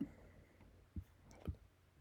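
Mouse clicks on a speed controller in a nuclear plant feed pump simulator: two soft, close clicks about half a second apart in a quiet room.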